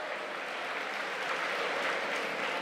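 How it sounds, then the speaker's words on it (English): An audience at a city State of the City luncheon applauds, a dense steady wash of many hands clapping at once, even and sustained. "Let's give a round of applause to Papa Pablo's and their staff for a delicious lunch and great"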